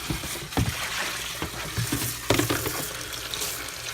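Water from a tap runs into a sink being filled to hand-wash woolens, a continuous close splashing and gurgling with a few sharper sloshes and knocks along the way.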